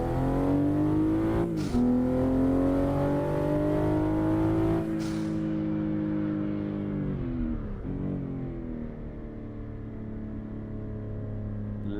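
A car engine in a driving video game drones steadily, its pitch sliding up and down through a handbrake turn, then settling into a lower hum as the car comes out wide.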